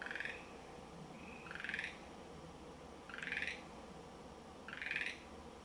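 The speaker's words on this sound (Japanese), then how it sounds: "カエルさん鳴く。" Four evenly spaced bursts of frog croaking, each short and raspy, calling out over a quiet, steady background hiss at night at a graveyard in Mie, Japan.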